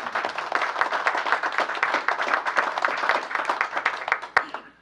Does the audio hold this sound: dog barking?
no